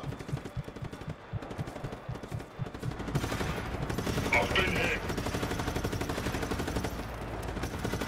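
Automatic and rapid gunfire in the video game Just Cause 3, dense overlapping bursts that build into a sustained, loud barrage with scattered shots.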